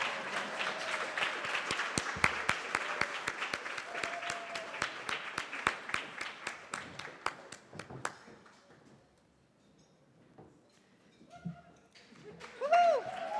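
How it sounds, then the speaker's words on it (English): Audience applause at a celebration event, crisp rhythmic clapping over a crowd wash that fades out after about eight seconds, followed by quiet room sounds and a brief voice near the end. "We can keep clapping for her until she gets up here"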